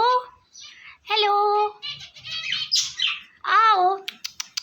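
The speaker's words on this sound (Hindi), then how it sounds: "ये दोनों फैमिलियां साथ साथ रहती हैं, ऑस्ट्रेलियन भी और फिंचे भी।" Caged Australian parrots and finches kept together give loud, close chirps and squawks, overlapping calls followed by a run of quick sharp tweets.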